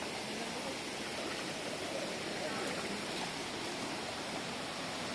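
A flowing stream rushes steadily, a continuous broadband hiss of water with no breaks, moderately loud and close, heard alone throughout.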